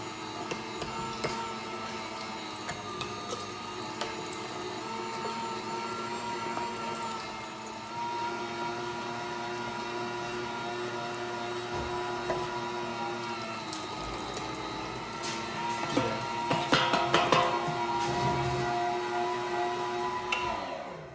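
A meat grinder forces venison and fat through its auger with a continuous whirring motor drone and grinding churn that swells louder toward the end, close up, with no talk.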